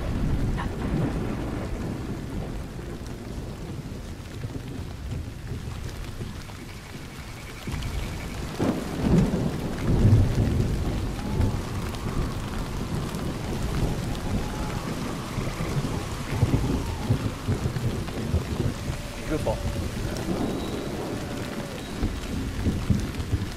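Steady rain hisses over everything in the game Warframe while thunder rumbles and cracks in the distance, growing heavier partway through; no voices.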